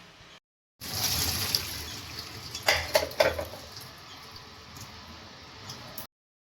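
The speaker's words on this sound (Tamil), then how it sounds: "நம்ம இந்த தண்ணியை ஃபில்டர் பண்ணிக்கலாம்." Water from boiled cassava is drained off through a strainer in a continuous pouring rush, with a few metallic clinks of the pot and utensils partway through and a quieter stretch at the end.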